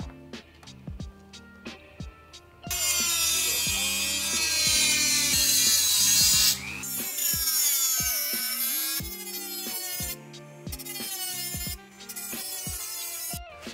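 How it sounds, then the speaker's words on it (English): A Dremel rotary tool cuts a section out of a metal bracket for a DIY LED corner light, a loud sustained high whine that runs for several seconds with brief pauses, after a run of sharp taps and clicks. "what we're gonna do with the Dremel is we're gonna cut a section out here like this"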